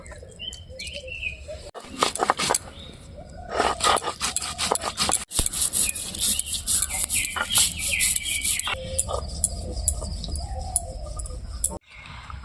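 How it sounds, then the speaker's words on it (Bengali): Cumin, black pepper, bay leaf and dried red chillies being ground by hand into a spice paste, a continuous rough scraping and rubbing close by, with birds chirping in the background and no talking. "জিরিয়া কাঁচা গোলমরিচ একটা তেজপাতা নিয়েছি চিরকড়ি শুকনো লঙ্কা একসঙ্গে আমি বাটি নিব"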